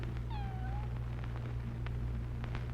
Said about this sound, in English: What's a cat doing in this place?